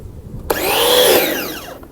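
A Bosch Easy Aquatak 110 high-pressure washer switches on with a sudden start into a loud, steady motor whine with shifting tonal sweeps, running close up for over a second before easing off.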